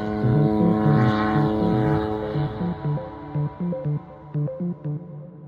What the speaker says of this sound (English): I've been in conflict zones where I've heard the sound of a drone.